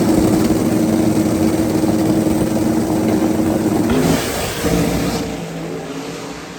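A race car at a racetrack roars loudly as it accelerates, a steady, dense engine drone that holds strong before dropping off and fading over the last couple of seconds.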